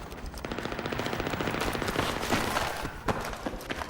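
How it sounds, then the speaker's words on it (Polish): Rapid bursts of machine-gun fire in the video game Battlefield 3, a rattling, fairly continuous fusillade that sounds somewhat distant, with a few louder single shots near the end. "Strzały słychać trochę, trochę w oddali,"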